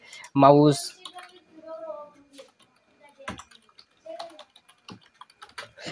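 Computer keyboard keys tapped in short, scattered bursts of light clicks at close range, with a brief voice speaking near the start.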